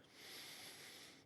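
A person breathes normally and heavily into a close microphone, a soft, airy, continuous hiss that swells and fades over about a second. It is faint and heard alone.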